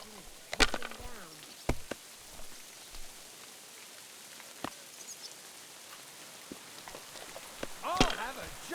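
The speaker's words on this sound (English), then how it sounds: "Pissing down rain." Steady patter of heavy rain on surfaces in the video game Kingdom Come: Deliverance II, with a few sharp clacks and knocks standing out over the hiss.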